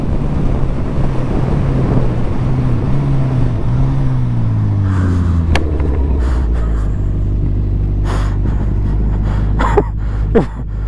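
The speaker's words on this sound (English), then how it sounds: "It's just wheeling in 5th gear." A Honda CB1000R tuned to 230 hp revs hard, wheelieing in fifth gear during a drag race against a Ducati Panigale V4. Loud droning engine pitch climbs and falls through gear shifts under heavy wind buffeting, with no speech.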